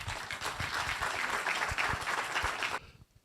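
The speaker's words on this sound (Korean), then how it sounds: "큰 박수로 맞이해 주시기 바랍니다." Audience applause welcoming a lecturer to the stage at a talk on Busan city history, a dense, steady clatter of many hands that holds for nearly three seconds, then cuts off sharply into near quiet.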